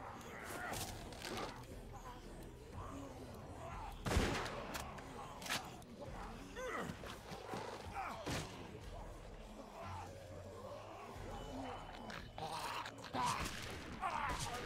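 Gunfire in the video game The Walking Dead: repeated sharp shots and bursts scattered across the scene, some heavy, at low game volume, with a voice talking intermittently among them.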